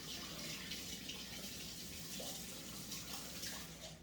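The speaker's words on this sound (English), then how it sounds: "And rinse this off." A kitchen tap runs in a steady, soft stream while something is rinsed off, a continuous faint rush of water heard alone at a distance.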